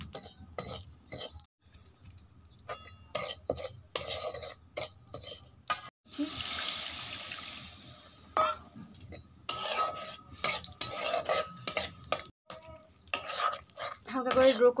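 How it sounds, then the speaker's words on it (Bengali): Semolina being lightly dry-roasted in a wok, heard as repeated metal spatula scrapes and clatters against the pan in bursts, with a brief softer sizzling stretch midway, close-up and without speech. "এটা আমি খুব বেশি ভাজবো না, হালকা করে ভেজে নেবো যাতে কাঁচা ভাবটা চলে যায়।"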